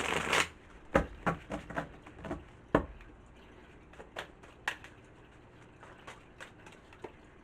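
Tarot cards are shuffled close by in a quick burst, followed by a run of soft, irregular riffles and taps with short gaps between them, with no talking.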